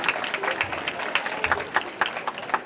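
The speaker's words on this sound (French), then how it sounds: "On peut déjà l'applaudir bien fort." Dense, sustained applause from an audience at an education-ministry ceremony where donated equipment is presented, with many overlapping hand claps at close range and no break.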